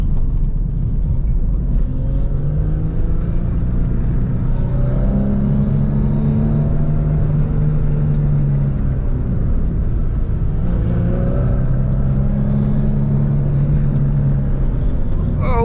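Car driving down wet, slick Tuna Canyon Road in Malibu, with a continuous loud engine and road rumble that swells twice as it accelerates, heard from inside with no talking.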